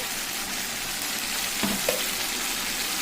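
Tomato paste masala fries in oil for a paneer dish, a soft continuous sizzle with a couple of brief clinks from stirring, fairly quiet and without talk.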